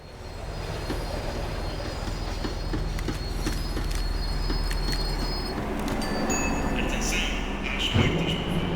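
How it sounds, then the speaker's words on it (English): Tram slowing down in the video game Max Payne 3: a steady rumbling rail roar with faint wheel squeals and metallic clicks, continuous and fairly loud throughout, ending with a brief clunk. "The tram was slowing down, and I'd only just gotten on board."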